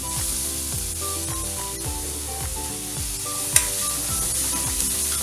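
Grated carrot hits a hot pan with a steady, close sizzle and crackle while a spoon stirs it through the mixture, broken by occasional scraping knocks of the utensil.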